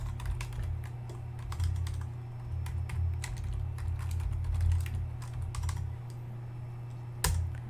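Commands typed on a computer keyboard at a Linux terminal, rapid irregular clicks and clacks with brief pauses, close and fairly quiet over a steady low hum, with a sharper key strike near the end.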